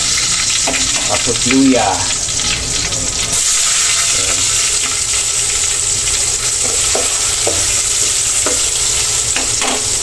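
Garlic and ginger sizzle and fry in a hot pan while making dinuguan, a steady crackling hiss with occasional stirring scrapes, and someone speaks briefly over it.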